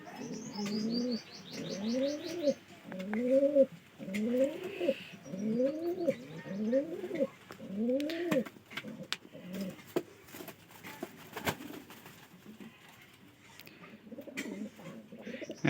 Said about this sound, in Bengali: সেই গেট আপের কবুতর।